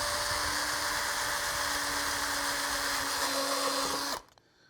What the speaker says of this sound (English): So I'm going to go ahead and drill these each out.